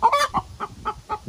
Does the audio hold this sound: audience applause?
no